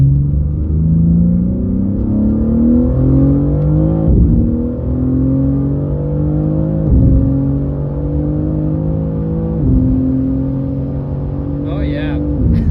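A BMW G80 M3 Competition pulls hard in first gear, its engine note climbing through repeated rising sweeps with brief dips at shifts, heard loud from inside the cabin with people talking over it.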